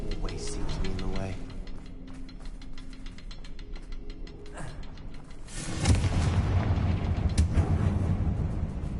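A Confringo blasting spell detonates in Hogwarts Legacy on PS5, a loud, deep explosive burst partway through. It follows a run of ticking, mechanical game sounds and rumbles on afterward beneath a steady ambient bed.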